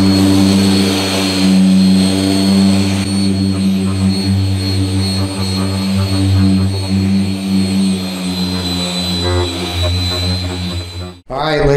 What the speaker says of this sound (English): Now we're switching to the chemical guys P4. And we're gonna use the lighter buffing pad.